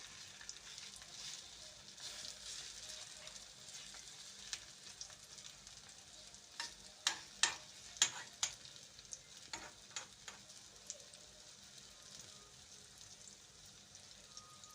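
Egg and vegetable mixture for a Ugandan rolex cooking in a pan, a steady soft sizzle and frying hiss throughout with a cluster of louder crackles and pops in the middle, close and moderately quiet.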